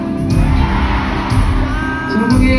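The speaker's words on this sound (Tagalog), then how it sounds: "Ito dapat yung pinakamalakas nating sigawan" Concert crowd shouting and cheering loudly together, a dense sustained roar of voices filling the space with scattered yells and whoops throughout.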